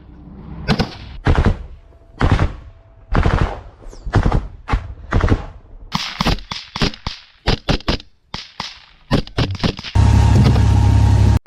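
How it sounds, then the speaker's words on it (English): Close-range gunfire in an infantry fight near a BTR armored vehicle: loud, sharp bursts and single shots scattered across the clip, ending in a sustained roaring burst of automatic fire. "They use a BTR as cover and open fire on the Ukrainian positions."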